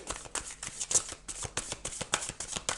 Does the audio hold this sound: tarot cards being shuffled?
yes